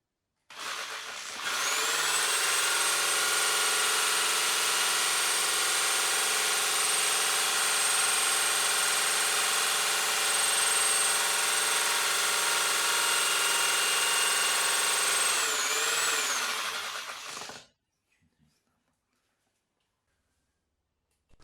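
Electric drill spinning a homemade brakeless generator at 1300 rpm, a steady loud high motor whine with a constant tone held for about sixteen seconds, then stopping abruptly into silence.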